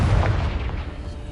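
A Confringo blasting spell in Hogwarts Legacy on PS5 bursts with a single deep, heavy boom that rumbles and decays over a second.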